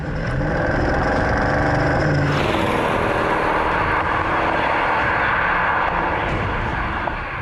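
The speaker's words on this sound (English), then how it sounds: "This luxury Porsche sedan comes with a turbocharged V8 that emits a brazenly powerful roar" Roar of a turbocharged V8 in a Porsche Panamera, a nearly two-ton luxury sedan, loud and continuous throughout, with a noticeable shift in tone partway as the engine note changes.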